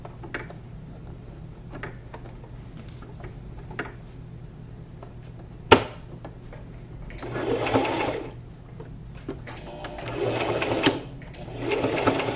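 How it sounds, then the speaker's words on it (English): A sewing machine stitching a fabric mask, with a steady low mechanical hum and ticking, a sharp click near the middle, then two louder bursts of rapid stitching. "We're just going to sew this part right here and this part right here"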